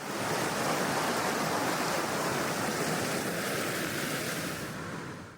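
Hantan River water rushing past stepping stones in a canyon, a loud, steady broadband roar that holds constant and fades slightly at the end, with no voices.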